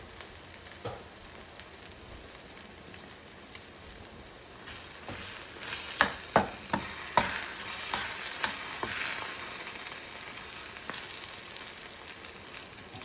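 Fried rice with chili oil and sriracha sizzles in a hot pan, a steady broadband frying hiss with scattered crackles and pops that swell midway and stay moderately loud, with no talking.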